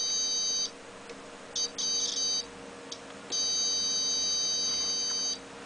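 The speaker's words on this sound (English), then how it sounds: "I hear a very high slight beep, so the wire is perfectly in order" A continuity tester emits high, thin beeps while its probes touch both ends of a wire in an Arduino wiring setup, sounding in several separate bursts, the last one long and steady, over faint background hum.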